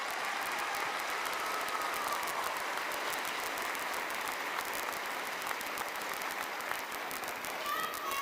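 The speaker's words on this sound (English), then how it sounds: "Let's give them a round of applause," Sustained applause from the audience at a middle school band spring concert, heard as a dense, continuous wash of clapping that holds steady at a moderate distance throughout.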